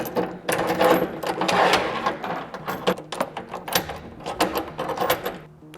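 Metal clamps for a Rough Country soft roll-up tonneau cover are slid into the bed rails of a 2022-or-newer Toyota Tundra, making close, busy clicks, scrapes and rattling clatter in uneven bursts.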